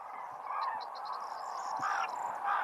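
Common cranes call at dawn over wetland water in southern Aragon in winter, a scatter of short, high bugling calls from a sizeable flock at middle distance, rising above a steady background din of many birds.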